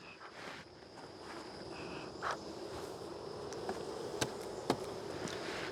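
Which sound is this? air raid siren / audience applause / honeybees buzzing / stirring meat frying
honeybees buzzing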